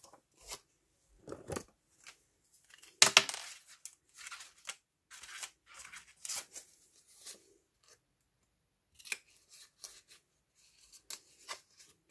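Paper is cut for a 13 x 18 cm mini album, heard as short, sparse snips and rustles, close and quiet, separated by silent pauses.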